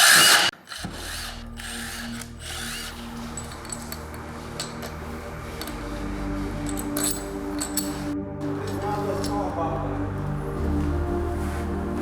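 Milwaukee power tool spinning out 10mm bolts on a damaged 2021 Porsche GT4 in a workshop, a sharp clack at the start, then a long steady mechanical whir with a ratcheting edge, rising slightly near the end.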